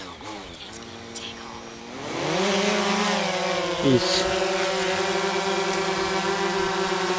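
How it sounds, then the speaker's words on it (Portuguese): Drone motors spin up after calibration: a buzzing, rising whine that ramps up and then holds at a steady high drone, close and fairly loud. Outdoors in strong wind, with someone talking briefly over it. "agora eu vou ligar os motores"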